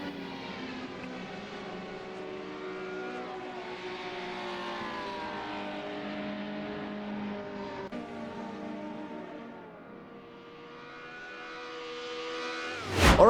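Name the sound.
Ferrari V12 race car driving a lap at Imola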